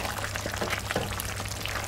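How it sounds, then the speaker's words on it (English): Water poured steadily into a pot of simmering green lentil and vegetable hotpot, giving a continuous close splashing rush with no talk over it. "I'm going to pop in a little bit more water, just so that everything can cook."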